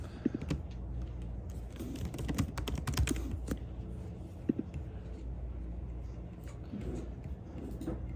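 Typing on a computer keyboard, with irregular bursts of close, crisp key clicks and clatter coming and going over a low background hum.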